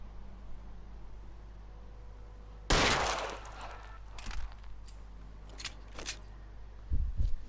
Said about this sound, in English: We shot the man.